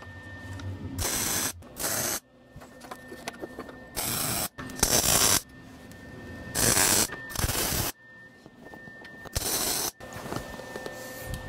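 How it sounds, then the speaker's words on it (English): MIG tack welding of center braces into a steel trailer frame for an irrigation pump, heard as five loud bursts of harsh crackling buzz, each lasting roughly half a second to a second, separated by quieter gaps with a steady background hum. "Now I'll tack these center braces into the frame."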